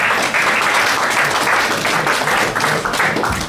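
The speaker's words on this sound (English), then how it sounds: "a round of applause for him" Audience applause at a sports awards night, a loud, sustained crowd clapping that fills the whole stretch with no break and no voices.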